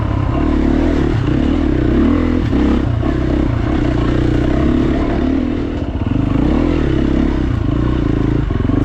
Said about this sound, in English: Another dirt bike, sweet.